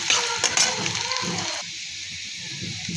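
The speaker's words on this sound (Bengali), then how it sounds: "বাগারের জন্য আমি শুকনো মরিচ, রসুন, পেঁয়াজ ভেজে নিচ্ছি" Dried red chilies, garlic and onion frying in a pan for a tempering, a close sizzle with a few stirring clatters that settles into a steady, quieter hiss.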